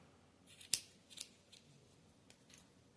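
Scissors snipping yarn to trim a crocheted bunny tail, a few quiet close clicks with one sharper snip, no voices.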